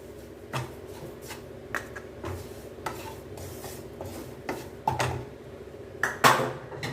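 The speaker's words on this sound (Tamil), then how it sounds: "இப்போது ரவையை சேர்த்துக்கலாம்" White sorghum semolina (rava) tipped into a pan and stirred for kitchadi, a run of scraping and clinking spoon strokes against the pan at an irregular rhythm, close and moderately loud, with no talking.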